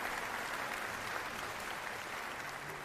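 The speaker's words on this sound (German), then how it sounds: "Applaus, Applaus! Applaus! Applaus! Super! Applaus! Applaus! Applaus!" An audience at an evening cultural festival of the Deaf community applauds in a continuous, even wash of clapping, heard at a distance and fairly faint, with no voices standing out.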